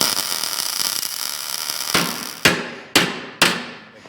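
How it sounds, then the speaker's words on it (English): A metal plug weld on an off-road 6x6 build is hammered over in a workshop: four sharp, ringing hammer strikes at about half-second intervals after a quieter hissing background, with no talk. "then I'll hammer this over"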